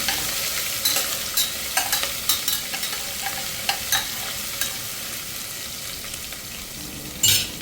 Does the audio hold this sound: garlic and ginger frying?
yes